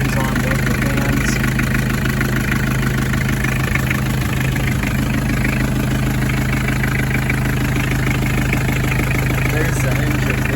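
The diesel engine of a 1982 Isuzu Pup (Chevy LUV) pickup idles steadily close by, a constant low rumble with a faint mechanical rattle and no revving.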